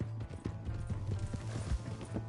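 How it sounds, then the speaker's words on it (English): Horse hooves clip-clop in a quick, uneven rhythm in the Red Dead video game, close and moderately loud for a couple of seconds. "Hey, that's my horse!"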